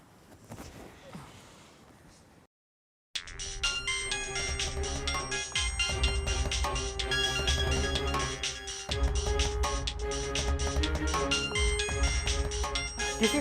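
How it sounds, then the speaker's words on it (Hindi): A mobile phone ringtone plays loudly and continuously as a bright repeating melody, following a brief moment of quiet, with no talk over it. "किसका फ़ोन है?"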